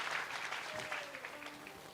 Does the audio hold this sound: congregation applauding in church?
yes